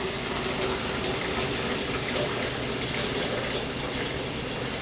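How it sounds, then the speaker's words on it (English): Kombucha strained and poured into a container gives a continuous, even rush of liquid close by, steady for several seconds with no pauses and no voices. "So now I strain this in here"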